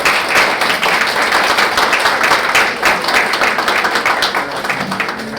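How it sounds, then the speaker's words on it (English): Loud, close applause at a talk on Hollywood history, many hands clapping in a dense continuous burst that eases slightly near the end, with no speech over it. "also some applause for Karen's photos"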